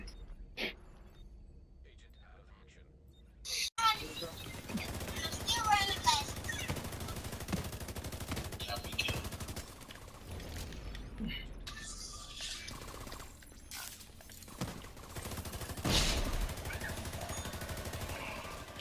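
Rapid bursts of MK-17 rifle fire ring out in a Division 2 firefight, sharp cracks repeating between quieter stretches, with other gunfire and game sounds mixed in and people chatting over it.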